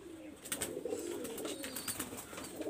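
Pigeons in a loft give soft, repeated throaty coos, fairly close and continuous over a faint background hiss, with no talking.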